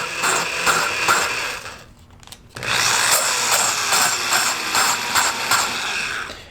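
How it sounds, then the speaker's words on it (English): A power drill spins a valve to grind its seat in a Wheel Horse lawn tractor engine during a rebuild, making a close, rough, ratcheting whir. It runs steadily, breaks off briefly, then resumes in reverse, with no talking. "move the valve in and out to grind the seat"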